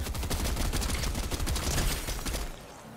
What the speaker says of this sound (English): Wait, I need to kill this guy with my pistol.